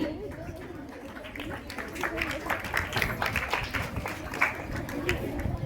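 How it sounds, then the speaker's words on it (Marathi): Clapping fills a school prize-giving ceremony as a student steps up for her medal, a steady patter of applause from the gathered crowd lasting several seconds. "जोरदार टाळ्या झाल्या पाहिजेत।"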